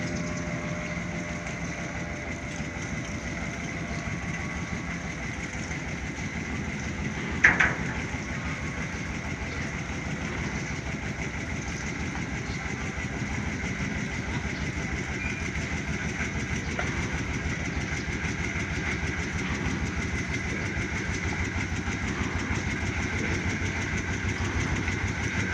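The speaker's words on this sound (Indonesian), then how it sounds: "Mesinnya mesin Dongfeng kayaknya itu." A Dongfeng engine drives a cabinless jukung boat on the Musi River, a steady droning chug that runs continuously throughout, with one brief knock partway through.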